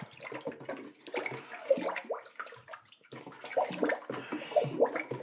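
Water poured and splashed into a bucket of blue pottery glaze being mixed to thin it, a close, irregular sloshing and trickling that rises and falls throughout.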